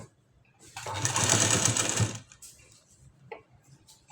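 A sewing machine stitches hooks and buttonholes in a short two-second run of fast, even needle clatter, followed by a few faint clicks and handling noises.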